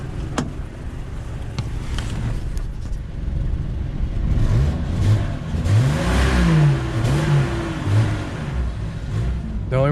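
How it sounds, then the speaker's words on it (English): An old free Jeep's engine running rough and close, rumbling then revving repeatedly with rising and falling pitch sweeps, loud and continuous. "we got our free Jeep running"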